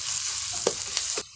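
Onions fry in a pan, a soft, steady sizzle with a few brief stirring scrapes near the end before it cuts off, all fairly quiet and close.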